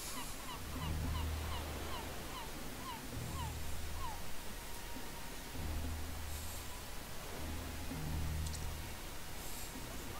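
Seagulls call in a quiet video game map, a series of short honking cries repeating in loose groups over a low wash of ambient surf-like noise, moderately distant.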